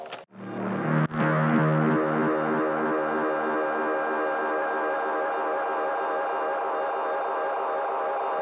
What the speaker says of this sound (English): which is the feedback from the delay that I was doing in the collider synth